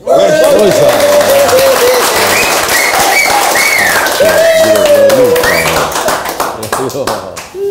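A live show audience claps at length in steady, dense applause. Voices sing or talk loudly over it, and the clapping becomes more scattered near the end.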